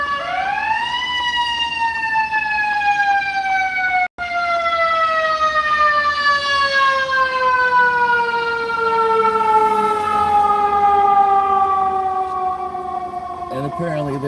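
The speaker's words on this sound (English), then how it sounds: "Here comes the Chicago Fire Department, ambulance" A Chicago Fire Department ambulance siren wails loud and close on a city street, a long sweeping tone that rises then slowly falls over about fourteen seconds, with a short break partway through.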